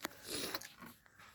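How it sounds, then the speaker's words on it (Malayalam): Manikutti the dog crunches Pedigree dry food mixed with warm water, giving a few close, quiet crunchy bites over a brief moment, with no talking. "മണിക്കുട്ടി പെഡിഗ്രി തിന്നുന്നുണ്ട"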